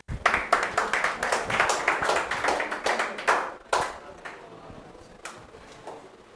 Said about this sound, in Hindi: जोरदार भैया लोकेंद्र के लिए तालियां बजाएंगे।